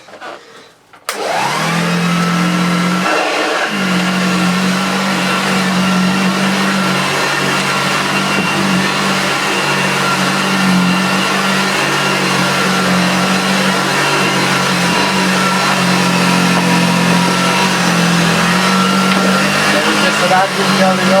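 Hoover Junior Dirtsearcher 1354a upright vacuum cleaner switched on and running over carpet: a loud, steady motor drone with strong airflow roar that starts abruptly and holds close and constant.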